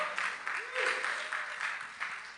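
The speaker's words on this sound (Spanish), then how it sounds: "Denle un aplauso a los actores," A church congregation claps for the actors after a performance, a steady wash of crowd applause with a voice speaking over it.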